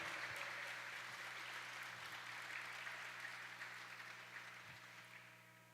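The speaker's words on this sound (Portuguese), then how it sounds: "Aplauda o Senhor aí pela vida desses" A church congregation applauds in a steady, dense wash of clapping that fades slowly, heard at a distance under a faint background hum with no voice over it.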